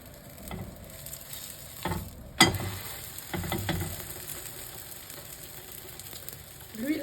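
Msemen flatbread fries in hot oil in a pan, a steady close sizzle broken by a few sharp clatters and taps as the bread is flipped, with no talking.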